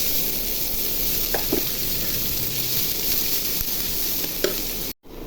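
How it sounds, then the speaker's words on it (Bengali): Chopped onions tipped into the hot oil left from frying turmeric-coated eggs sizzle loudly and steadily, with a few sharp crackles and faint stirring clicks, close up and with no voices, before a brief cut near the end. "ডিম ভাজা তেলের মধ্যে পেঁয়াজ কুচি ঢেলে দিব।"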